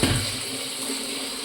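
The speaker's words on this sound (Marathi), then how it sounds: "बेसिनचं नळ आहे ना हे बेसिनचं नळ" Water pours steadily from a wash basin tap, a soft continuous hiss and splash close by with no talking.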